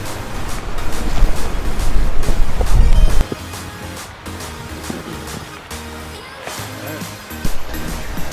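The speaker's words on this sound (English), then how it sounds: "that wind, oh my gosh, that wind. The wind is horrendous." Strong, gusty wind beside a frozen river in snowy weather, buffeting loudly with heavy low rumble for the first few seconds, then easing to a lighter blustery rush with intermittent gusts.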